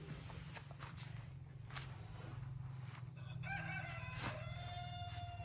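A rooster crows once, a drawn-out, faint call rising over a low steady hum in the second half, with no talking.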